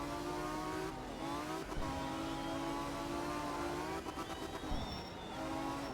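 Rally car engine from the game Art of Rally, holding a raspy, buzzing tone that dips and climbs with gear shifts, occasional thin tire squeals over the top, loud and constant with no one speaking.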